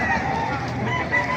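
Chickens and a rooster at an outdoor poultry market in Baliuag, with steady clucking and crowing-like calls from several birds close by, over a continuous busy background murmur.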